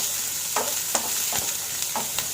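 Cubed onions sauté in a hot pan for a paneer mutter masala, a steady soft sizzle with several brief scraping stirs of a spatula at regular intervals.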